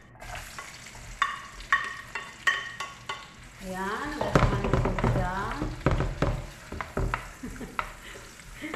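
Onions drop into hot oil in a pan, and a crackling sizzle swells and then carries on under bursts of stirring and scraping, while a person talks over it.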